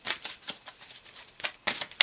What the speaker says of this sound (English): So we will shuffle and we will split the deck and give you 3 cards as advice.